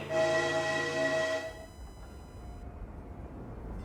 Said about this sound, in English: This train is bound for Indian Mound.